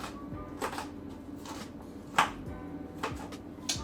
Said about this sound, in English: I just want to cut it to pieces.